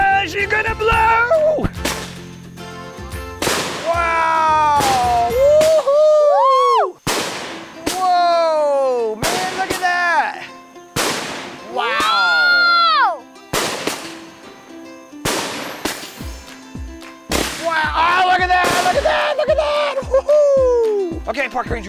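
A 16-shot Yellow Rose of Texas fireworks cake goes off nearby, sending a string of loud, sharp bangs and whistling, crackling bursts in rapid succession, with excited voices shouting and talking between the shots.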